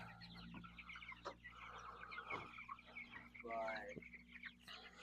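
Chickens in a chicken tractor cluck and squawk in short, irregular bursts, fairly faint over a low background hum, with one rising, drawn-out call near the middle.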